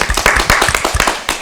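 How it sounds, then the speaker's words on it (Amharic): A group of children on an Ethiopian kids' TV show clap for themselves, a loud, close, rapid patter of applause that runs steadily throughout. "አጨብጭቡ ለራሳችሁ።"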